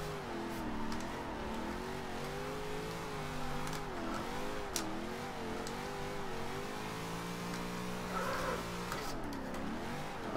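A rear-wheel-drive car in Forza Horizon 2, tuned for drifting, revs continuously with the engine pitch rising and falling through the corners, loud and steady throughout.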